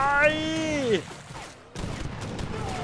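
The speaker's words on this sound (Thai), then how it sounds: "นี่ปืนใหญ่เรายิงแบบดุดัน" Cannons fire in Age of Empires III Definitive Edition during a battle between Indian and French forces, with a few sharp booms and rattling blasts following a rising and falling tonal game sound.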